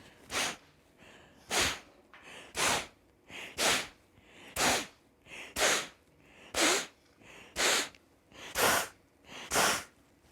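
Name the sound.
forceful nasal exhalations in Kapalabhati yoga breathing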